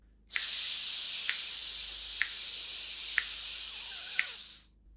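Forceful steady exhalation of breath hissing out for about four seconds, a loud continuous airy rush with a few faint clicks, starting and stopping abruptly.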